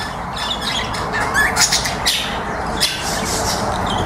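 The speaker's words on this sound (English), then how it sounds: "a male budgie." A male budgie at a wetlands wildlife centre in Port Douglas squawks and chirps in quick, scratchy bursts close by, over a busy background of other birds and ambient noise.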